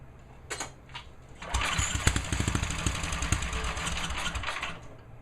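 A small tractor-style go-kart engine sputters briefly, then catches and runs steadily with a rapid, loud chugging rhythm before cutting off near the end.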